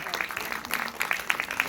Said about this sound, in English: And a huge round of applause for our talent board here today